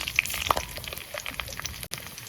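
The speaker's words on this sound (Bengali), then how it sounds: "পটলের ছোলাটা ভেজে নিন দিয়ে দিলাম কাঁচা লঙ্কা তারপর দেবো রসুন তারপর যাবে কালো জিরা" Pointed gourd peel fries with green chili, garlic and black cumin in hot oil, giving a steady close sizzle with scattered small crackles and pops throughout.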